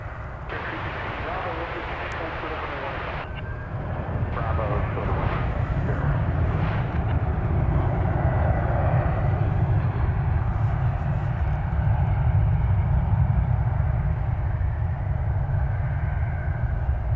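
Boeing 767 jet departing for Louisville, a deep steady engine roar building after a few seconds and holding loud and sustained, with a voice talking over it at the start.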